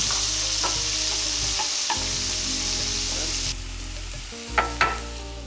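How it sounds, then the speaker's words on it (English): Meat fries in a pan for shrimp and grits, a steady close sizzle and crackle with a low hum beneath, interrupted by a few soft clinks and stirring knocks near the end. "It's going to fry up really nice and crispy, render a nice juice for the sauce."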